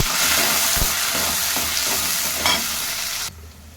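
Onions, garlic, curry leaves and green chillies frying in oil for an egg curry, a loud, steady close sizzle with occasional stirring scrapes that drops off sharply near the end.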